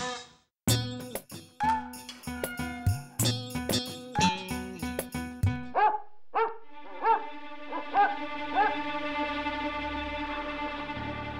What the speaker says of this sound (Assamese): কুকুৰে ভুকিছে তাতে